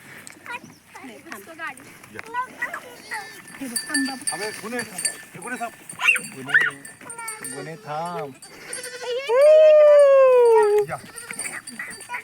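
A goat bleats repeatedly, near and loud, with one long drawn-out bleat near the end, while people talk and a voice chatters around it.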